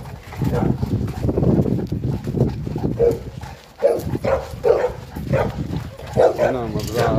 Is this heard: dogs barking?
yes